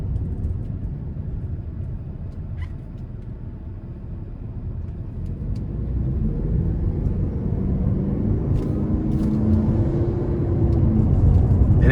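A 2025 Toyota Prius Plug-in XSE Premium pulls hard out of a corner, its low engine and road rumble building steadily louder from inside the cabin, with no speech.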